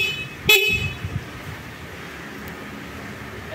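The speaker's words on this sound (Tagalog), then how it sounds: "ito naman ang kanyang horn" A single short, loud horn blast from a EuroMotor EZ 125 motorcycle near the start, then steady engine idle and low road rumble.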